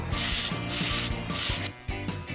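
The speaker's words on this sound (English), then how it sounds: "after all the paint is done, I go over it with a flat clear protective spray coat" Aerosol can of flat clear protective coat sprayed over a painted figure in short repeated bursts, four or five close hissing blasts separated by brief pauses and faint rattles.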